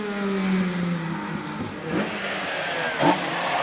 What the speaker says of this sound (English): He's followed by Joshua Moss, just leaving the line now in this rather nice green Escort.